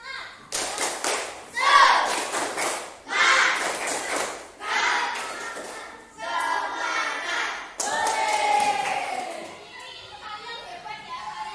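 Schoolchildren in a classroom performing a patterned spirit clap, loud bursts of clapping and thumps in a rhythmic sequence mixed with chanting children's voices.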